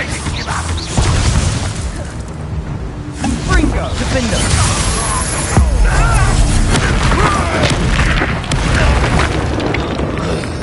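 A Bombarda spell blasting in Hogwarts Legacy, heavy booming explosions and crashing debris rolling through a dense, loud game soundscape with repeated impacts over about ten seconds.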